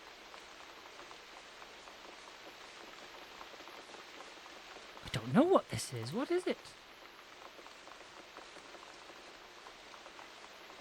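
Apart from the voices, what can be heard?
rain in woods sound effect from CD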